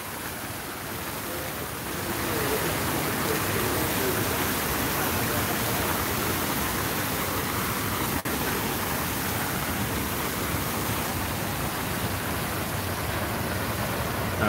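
Rushing water of a waterfall on the Las Vegas Strip swells up after a quieter start into a loud, steady, hissing roar nearby that continues without pause.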